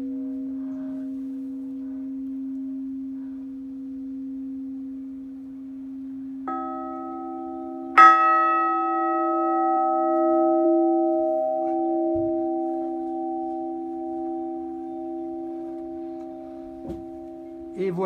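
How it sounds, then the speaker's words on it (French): Church bells at Melezet, with period clappers, ring out as sustained tones: a low steady hum, then a second bell joins and a sharp strike lets a bright resonant ring hang and slowly fade. "Et voilà 4 sons de cloche à identifier."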